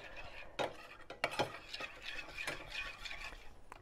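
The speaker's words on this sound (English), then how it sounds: "take a little bit of this mixture and stir it into the gelatin" A spoon stirs a mixture into gelatin in a small dish for a sugar-free fruity mousse cake, with close, quiet scraping and several sharp clinks of metal against the dish in an irregular rhythm and no talking.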